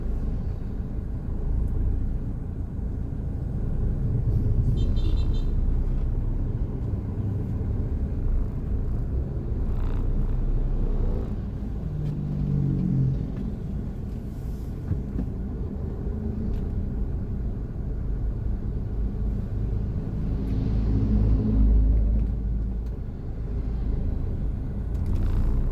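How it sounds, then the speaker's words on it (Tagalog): Road traffic near General Trias, Cavite: cars rumble past in a continuous low wash, rising and fading as vehicles go by, with no talk. "Tingnan nyo ang traffic doon, no?"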